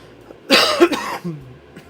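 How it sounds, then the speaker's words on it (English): A single harsh, close cough bursts out, followed by a short rasping tail and a softer second huff. "Excuse me for the cough."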